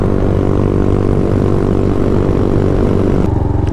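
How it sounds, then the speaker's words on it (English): An X22 GT with a Honda clone motor drones steadily and loudly up close, a continuous low buzzing engine note that dips and shifts near the end, with no talking. "It's a Honda motor inside of the X22 GT."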